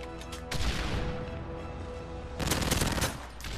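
Rapid gunfire from a PP90 submachine gun with rapid fire and an extended magazine in Modern Warfare 3 free-for-all, loud bursts running through the clip with a second intense burst near the end.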